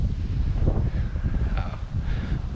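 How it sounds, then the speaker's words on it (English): Strong gusts buffet the microphone on a canoe trip in Norway, producing a loud, low rumbling roar that swells and dips unevenly throughout, with faint rustling higher up and no talking. "Bloody windy."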